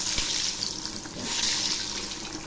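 Eggplant slices frying in hot oil in a kadai, just flipped, give a steady broadband sizzle that swells and settles over a few seconds, close and moderately loud with no talking.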